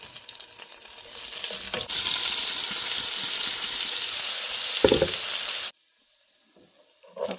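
Shrimps frying in hot oil for Singapore-style noodles, a loud steady sizzle with occasional stirring clatter, then a sudden drop to near silence before a brief return of sizzling.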